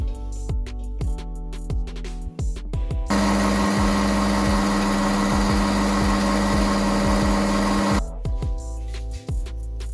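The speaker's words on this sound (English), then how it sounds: "I put it in my blender and blended it." A kitchen blender whirs loudly and steadily for about five seconds, pureeing cooled banana soup, with lower mechanical rumbling and clicking before and after the blending burst.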